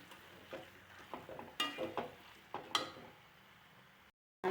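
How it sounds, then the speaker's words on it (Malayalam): Chicken with masala being stirred in a pan for a pepper chicken roast, a series of scraping and mixing strokes over a faint sizzle, close and fairly quiet, ending with a brief cut to silence. "നമുക്ക് നല്ലോണം മിക്സ് ചെയ്ത് കൊടുക്കാം."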